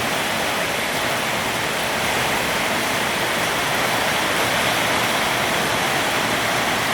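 A downpour of heavy rain falls at a home in Thailand after a hot spell, producing a loud, unbroken hiss and roar that stays even from start to finish.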